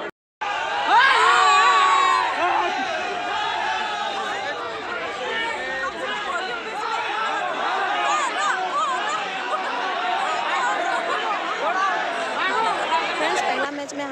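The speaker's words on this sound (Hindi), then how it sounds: "अंदर जाने के लिए नहीं दे रहे हैं, इसलिए पब्लिक कितना चिल्ला रहे हैं" A large, agitated crowd shouts and clamours outside a hockey stadium at an inauguration event, as people are refused entry; dense, continuous loud voices carry on steadily throughout with a few higher shouts.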